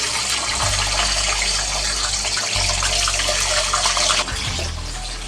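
Chopped green beans drop into hot white cooking oil for mixed fried rice, setting off a loud, bright, rushing sizzle with a low hum beneath it that briefly drops and returns near the end.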